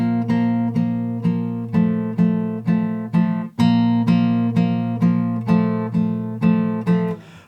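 Electric guitar in standard tuning plays the intro riff of a song, a steady run of about a dozen evenly spaced, ringing power-chord strums, played alone and close.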